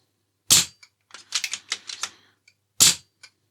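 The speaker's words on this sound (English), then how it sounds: "The actual muzzle brake itself does change the note of the rifle." Two sharp, loud rifle shots several seconds apart, fired through a muzzle brake on a BRK Ghost, with a scatter of quieter clicks and mechanical rattles between them.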